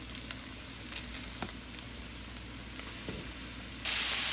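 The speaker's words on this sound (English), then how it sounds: "Now we are going to put the zucchini in." Zucchini meets a hot pan and sizzles in a steady, close hiss, with a few faint taps of a utensil, the frying growing louder toward the end.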